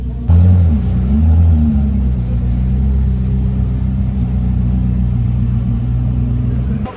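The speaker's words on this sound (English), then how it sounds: "there we go, a road-going variant of the McLaren F1 finished in this light brown color" A McLaren F1 road car, finished in light brown, passes at a car event, its engine a steady loud low rumble with a brief rise in revs near the start, close by.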